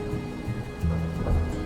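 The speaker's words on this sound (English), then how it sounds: "Is it thundering here or in-game? It should be in-game." Thunder rumbles low and steady in the video game Please Be Happy, a short stretch of deep rolling sound under a soft hiss like rain, with no talking.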